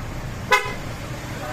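A PIAA aftermarket horn fitted to a motor scooter gives one short, loud honk with a bright harmonic tone, rising over low background rumble and a nearby voice.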